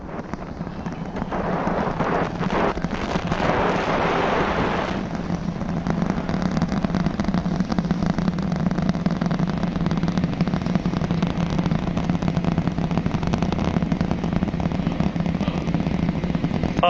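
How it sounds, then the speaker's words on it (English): A SpaceX Starship Super Heavy booster climbs after liftoff with 32 of its 33 Raptor engines lit. Its deep rumble is loud and continuous, with crackling through the low end, and builds at first before holding steady at a distance. "The rumbles are still building here in the Raptor's nest. We're seeing 32 out of 33 engines lit on the Super Heavy right now."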